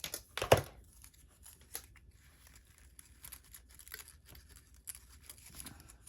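Paper or craft material being cut with scissors at a crafting table, a loud tearing snip early on followed by quieter scattered crinkles and rustles, close and with no talking.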